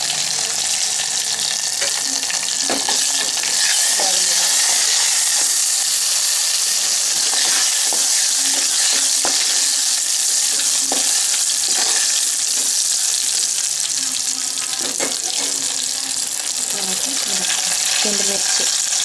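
Spices and urad dal tempering in hot oil in a home kitchen, a steady loud sizzle with scattered crackles and pops, plus occasional clinks of a spoon stirring the pan.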